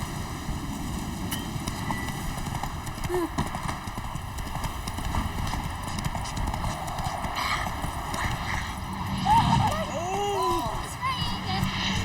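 Hooves clip-clop in a fast, steady rhythm as the horse Roach gallops in The Witcher 3, continuous and close, with the game's ambient sounds underneath.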